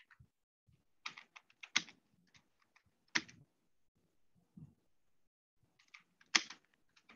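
Scattered clicks from a computer keyboard sound close and fairly quiet, with short clusters of keystrokes separated by pauses in an otherwise silent room.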